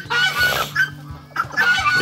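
Backyard chickens and a rooster cluck and squawk in short bursts close by, with brief quiet gaps between the calls and no voices.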